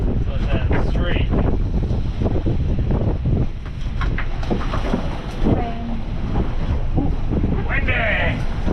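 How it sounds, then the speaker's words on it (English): Wind gusts across a boat on the Swan River, rumbling and buffeting the microphone continuously while people talk over it. "Windy!"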